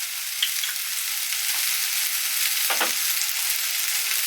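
Sausage and onions frying in oil as they are stirred, a soft steady sizzle heard up close, broken by one brief scraping sound partway through.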